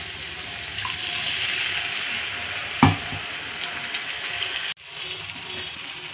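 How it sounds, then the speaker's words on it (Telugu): Water is poured into a hot pan of sizzling egg masala curry, a steady frying hiss with a sharp burst partway through, then the sizzle cuts off abruptly and settles into a quieter bubbling. "ఇప్పుడు ఇందులో కొద్దిగా వాటర్ పోసుకోవాలి."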